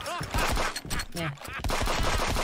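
A turret fires rapid automatic bursts in the video game Friends Vs Friends, loud and continuous across the moment, mixed with game effects and under excited talking.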